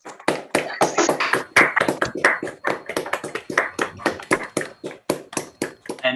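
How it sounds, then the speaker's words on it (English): Online participants unmute their microphones and clap together after a talk, giving close, choppy bursts of hand claps with uneven rhythm and clipped, compressed bursts. "please unmute and join together in applause for Lionel's talk"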